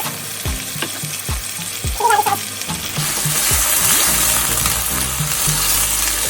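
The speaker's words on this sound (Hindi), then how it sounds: "चिकन अच्छे से पक गया, भून गया। अब इस पॉइंट पे आके हम अपने मसाले डाल देंगे।" Chicken frying in a pan with spices for Hakka noodles, a steady loud sizzle with repeated scraping stirs of a spatula, the hiss swelling louder midway as the spices go in; no voices.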